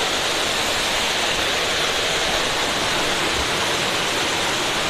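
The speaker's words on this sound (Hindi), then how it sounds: "यहाँ पे देखो भाई पानी का स्पीड कितना ज़्यादा है।" Fast-flowing water at Sevoke Waterfall near Siliguri, a steady, loud, dense rushing roar that fills the whole clip without a break and with no voices over it.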